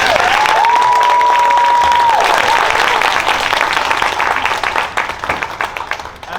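An audience in a school hall applauds a Year 4 class performance, a steady round of clapping that thins out toward the end, with a brief whistle-like tone early on.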